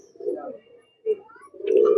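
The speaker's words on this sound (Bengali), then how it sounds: "এটা হচ্ছে একটা গিরিবাজ পায়রা, গলা কষা" A Giribaz pigeon, a high-flying breed, gives low throaty coos close by in a few short bursts with pauses between them, and the last coo is the longest and loudest.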